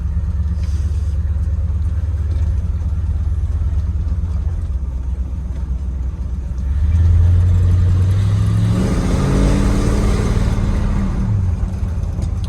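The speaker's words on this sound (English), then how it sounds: "I don't know if you can hear the exhaust coming through on the audio, but these two chamber flows sound good." A 1976 Ford F250 crew cab with two-chamber Flowmaster mufflers rumbles steadily at idle, then swells into a louder, deeper revving pass around the midpoint before settling into a strong, sustained exhaust drone with no talking.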